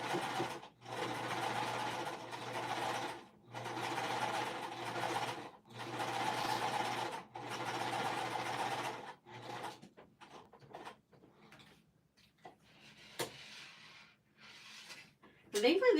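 A home sewing machine runs in several steady bursts of stitching through ripstop fabric on a quilted sweatshirt, each run separated by short pauses, close and clear, followed by quieter handling and fabric movement.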